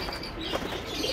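Pigeons in a training loft give a brief, soft coo with a flutter of flapping wings, close by and faint over a steady background hiss.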